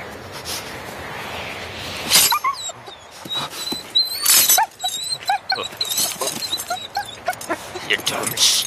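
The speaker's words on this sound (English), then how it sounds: "you stupid dog." A dog whimpers and gives short yelps in an outdoor scene from a 1994 film, the cries coming in uneven bursts alongside rustling and background noise, with no speech over them.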